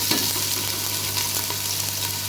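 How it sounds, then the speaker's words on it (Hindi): Onions sizzle and fry in hot ghee in a pan, a dense, steady crackling hiss that is loud and close, with a low hum underneath and no voices. "अब इसमें प्याज चालू कर देंगे।"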